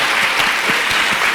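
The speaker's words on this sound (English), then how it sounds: "I just think we should clap for nurses" Applause for nurses fills the room, a dense, steady wash of many hands clapping at close range with no talk over it.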